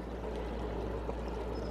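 A fast-flowing stream rushes through a narrowed channel with a strong current, giving a steady, even wash of water noise with no voices.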